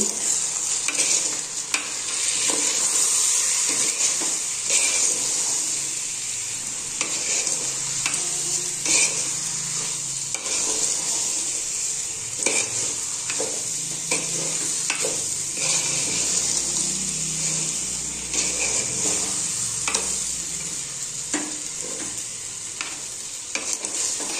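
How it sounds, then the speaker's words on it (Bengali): Rice is fried and stirred in a pan with salt and sugar for a festive korma, a steady loud sizzle running throughout with repeated scraping strokes of the spoon, close up and without talk. "চালটাকে ভালো করে ভেজে নিতে হবে।"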